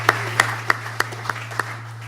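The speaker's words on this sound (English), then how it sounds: "Let's give them a round of applause." Sparse, slow claps from a few people at a political candidates' event honoring educators, six or seven separate hand claps over a steady low electrical hum, fairly faint and without voices.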